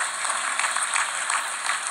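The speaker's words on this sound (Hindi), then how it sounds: "श्री अंकित कोठारी मंच पर रजत कमल ग्रहण करने के लिए पधारते हुए जोरदार तालियों से स्वागत करिए।" Audience applause fills a National Film Awards ceremony hall as an award winner walks to the stage, a steady dense wash of clapping with no voices over it.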